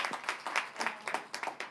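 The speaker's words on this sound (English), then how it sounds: "Can we give them a round of applause?" An audience at a Prince George's County economic development event gives a steady round of applause, a dense, continuous patter of many hands clapping at moderate volume, with no voices over it.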